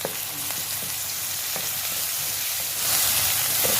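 Sliced green onion with pounded ginger and garlic stir-frying in hot oil for a chicken tikka masala, a loud dense sizzle close by that swells louder toward the end, with a few spatula scrapes and no talking.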